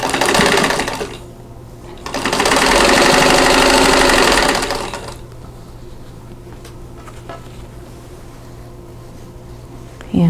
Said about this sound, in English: now we're ready to sew things into the rows